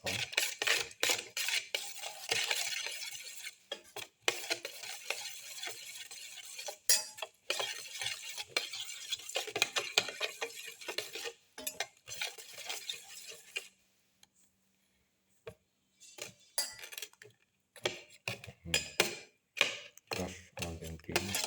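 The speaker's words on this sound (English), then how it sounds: "Mix in the salt." A spoon stirs salt into an egg mixture for a black pepper garlic omelette, giving repeated light ticking scrapes against the bowl with a short pause partway through.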